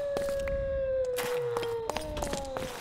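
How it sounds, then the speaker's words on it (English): Wolves howl in the distance in the survival game RLcraft, a long faint wavering tone that slowly falls in pitch while game sounds and clicks carry on over it. "if you can hear that little bit of howling in the distance"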